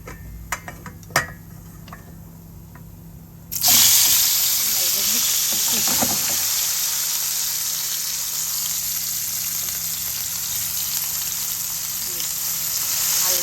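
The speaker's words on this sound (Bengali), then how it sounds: "সুন্দর করে ভাজি করছি আলুটা দিয়ে দিই আলুটা" Potatoes drop into hot oil in a pan for a Bangla fish-and-potato curry, setting off a sudden loud, steady sizzle that runs on continuously after a few light clinks at the start.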